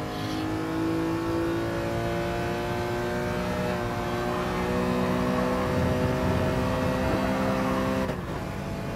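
A BMW E46 M3 engine in Gran Turismo Sport drones at high revs for several seconds, steady and loud with a sustained whine, cutting off abruptly near the end.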